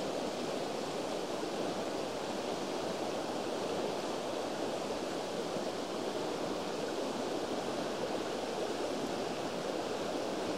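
The river Rosara flows over rocks in a steady, continuous rush of water that stays even throughout, with no voices.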